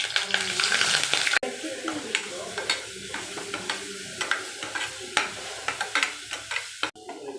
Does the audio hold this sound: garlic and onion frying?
yes